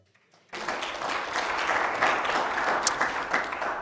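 A church congregation claps together during a Sunday morning worship service, a dense, steady round of applause that starts abruptly after a brief quiet and carries on loud and sustained.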